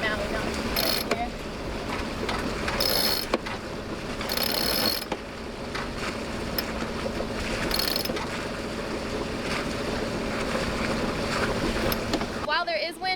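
A sailboat moves under wind on the ocean off California, with steady water and wind noise, repeated ratcheting winch clicks and creaking rigging, plus occasional bursts of louder spray.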